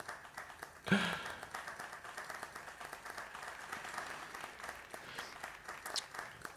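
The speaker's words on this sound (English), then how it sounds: "I want to see everyone clapping for him" Audience applause during a video game livestream, a quiet, steady patter of clapping running throughout after a brief louder burst near the start, somewhat distant and thin.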